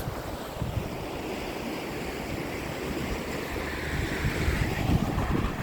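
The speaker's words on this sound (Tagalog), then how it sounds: "Grabe ang lakas ng ilog, no?" A strong river current rushes in a mountain valley near Zell am See, Austria, a loud continuous broadband roar with wind buffeting the microphone and no talk.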